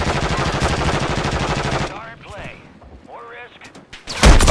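Rapid automatic gunfire in a shooter video game, a dense burst of closely spaced shots for about two seconds, then quieter game sounds and a final loud shot, with players talking.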